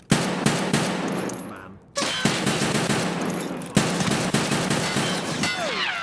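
Rapid automatic gunfire sounds in a video game fight as the player shoots at an enemy, with loud bursts broken by a brief pause and then more sustained fire.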